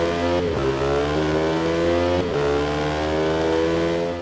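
Motorcycle engine in a Ducati racing video game revs loudly and continuously, with steady high-pitched harmonic drone and two brief gear-shift dips, close and alone without talk.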